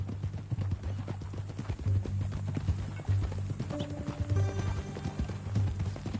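Steady clip-clop of a horse's hooves in a video game, an even trotting rhythm close by, with a brief whinny and faint game sounds in the background.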